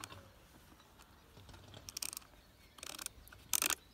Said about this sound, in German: Wir machen hier die Schraube auf, entspannen die Kette, das ist zum Kettenspannen.